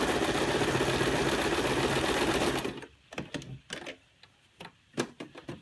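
A sewing machine runs a satin stitch with a fast, dense mechanical whir for nearly three seconds, then stops, leaving a few scattered clicks and knocks.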